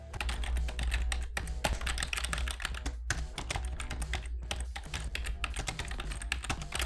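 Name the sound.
random computer keyboard typing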